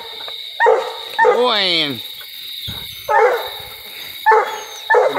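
Coon hunting dog in Ohio giving several loud, drawn-out barks and bawls in separate bursts, with someone talking briefly between them.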